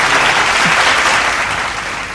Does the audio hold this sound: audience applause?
yes